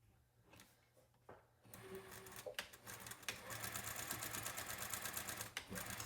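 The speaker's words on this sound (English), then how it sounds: "So now we're going to sew right along 1 and 2 and between 3." A sewing machine runs steadily along a drawn line on quilt pieces, its rapid mechanical stitching rising from quieter handling sounds and continuing close and loud to the end.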